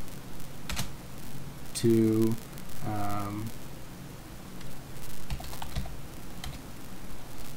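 Linux move command typed on a computer keyboard: quiet, fast key taps patter steadily under a voice talking, with a low background hiss throughout.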